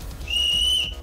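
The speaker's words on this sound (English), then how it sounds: "The whistle blew as Mai turned to me." A referee's whistle in the video game Asagao Academy gives one sustained, shrill, steady blast of about half a second, loud and clear with no voices.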